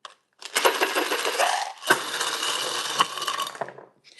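Dice shaken for a reading, rattling and clattering loudly in a container in two bursts separated by a brief pause, with sharp clicks scattered through the racket.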